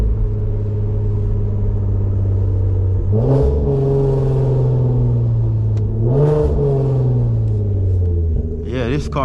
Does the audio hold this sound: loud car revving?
yes